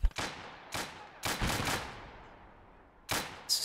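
Anti-aircraft guns firing in Gates of Hell, several sharp bursts of rapid shots spaced by short pauses, moderately distant and fairly quiet.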